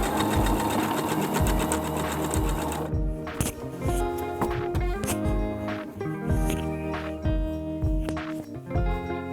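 A sewing machine runs fast and steady, stitching a long quilt seam with a dense, even mechanical whir that pauses briefly, then continues in shorter rhythmic bursts close to the mic.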